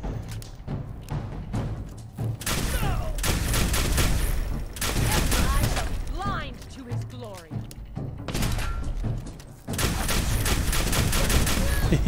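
Rapid bursts of gunfire come from a captured weapon in Fallout 4 VR, loud close volleys with short pauses between. Thuds and game effects mix in, and a voice speaks under the shooting.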